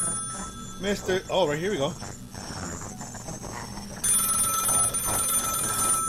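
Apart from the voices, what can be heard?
telephone ringing in horror video game Find Yourself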